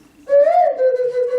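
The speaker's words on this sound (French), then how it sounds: "On souffle avec le nez, là c'est des sifflets qui servent pour la chasse ou pour la communication." A nose-blown hunting whistle, also used for signalling, sounds one sustained, loud, close tone that rises slightly and then holds steady for about a second, with no talk.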